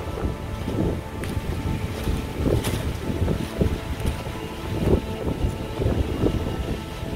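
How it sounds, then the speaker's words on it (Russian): Wind gusting through a granite-lined gorge in the Harz mountains of Germany, a steady low roar with rising and falling buffets close on the microphone, no voices. "Ветер поднялся."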